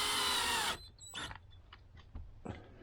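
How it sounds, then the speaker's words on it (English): Power drill driving a screw into acrylic, starting with a loud whir that cuts off sharply, then short faint bursts and clicks as the screw is snugged down. "We're screwing just until it makes contact."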